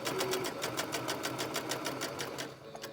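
A sewing machine stitches fabric at a steady, fast clip, its needle chattering in an even mechanical rhythm up close before slowing slightly at the end.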